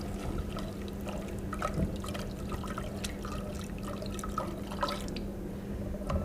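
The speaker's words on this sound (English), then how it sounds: "So I'm gonna pour in this chicken broth." Chicken broth pours into a cooking pot, a soft, steady liquid splash with scattered drip-like spatters running throughout, fairly quiet and close, with no talking.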